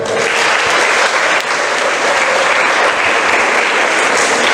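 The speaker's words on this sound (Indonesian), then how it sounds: "Tepuk tangan tuh." Steady, dense applause from a school audience in an auditorium at SMA Plus Negeri 17 Palembang, loud and continuous for several seconds without letting up.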